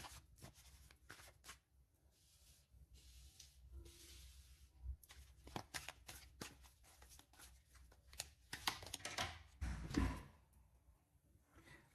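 Tarot cards are shuffled for a reading, soft riffling and slapping bursts that come in irregular clusters, faint and close in a quiet room.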